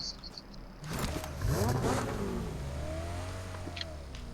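Car engine in the PUBG Mobile video game, revving and surging with rising and falling pitch sweeps, steady and fairly close, with brief sharp game effects layered on top and no speech.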